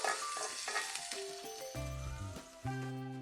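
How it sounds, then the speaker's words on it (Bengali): Onions frying in soybean oil, a gentle broad sizzle running under melodic background music. "পেঁয়াজটাকে নরম করে ভেজে নিতে হবে।"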